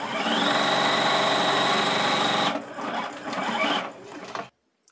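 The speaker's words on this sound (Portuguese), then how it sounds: "E aí, vamos passar a costura reta." A sewing machine runs a straight seam through fabric for a shoulder cloth, a steady loud mechanical whir for about two and a half seconds, then slower intermittent stitching before stopping.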